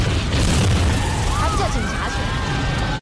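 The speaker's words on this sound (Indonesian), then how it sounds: "tiba-tiba terjadi sebuah ledakan yang sangat besar" A loud, sustained roaring blast fills the clip with broadband rumble, followed by fading debris and ringing tones before it cuts off.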